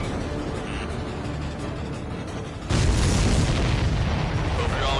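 A supply ship explodes in the Ace Combat 7 video game. A sudden deep boom bursts out of a steady roaring background and holds as a loud, sustained rumble.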